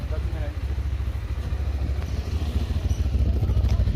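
Motorcycle engine running steadily after a repair for water and sand getting into it, a continuous low rumble close by that grows slightly louder toward the end.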